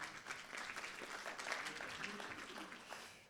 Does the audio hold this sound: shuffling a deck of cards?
no